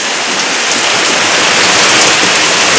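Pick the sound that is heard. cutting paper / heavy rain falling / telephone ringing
heavy rain falling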